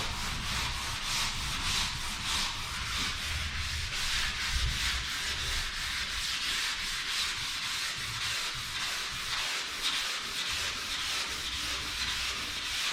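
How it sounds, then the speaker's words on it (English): Sandpaper of 320 grit rubs over primer on a Z28 car body in a steady, continuous rhythmic scrubbing. The strokes are close and fairly loud throughout, with no talk. "I'm going to sand it with 320 to start with"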